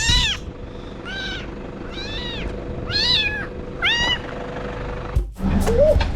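A farm cat meows loudly and close, five or six drawn-out cries in a row against rustling outdoor background, with a soft human voice at the very end.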